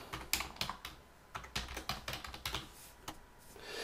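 Typing on a computer keyboard while filling in software form fields, a quick irregular run of crisp plastic key clicks close to the microphone, with no voice over it.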